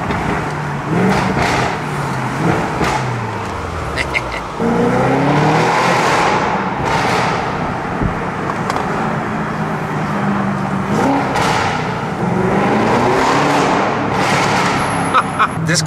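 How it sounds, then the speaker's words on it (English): A car on hilly Pittsburgh streets drops a gear and accelerates, the engine note rising and falling through revs, close and loud, with someone talking over it. "A little downshift."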